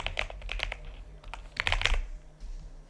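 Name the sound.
typing on a computer keyboard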